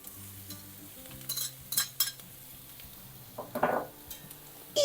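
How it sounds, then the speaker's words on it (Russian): Chopped onions and carrots fry in a pan for pea soup, with a low steady sizzle broken by a few scraping stirs and spoon clinks against the pan, close by and without talk. "О, смотрите, как начинает прижариваться лучок."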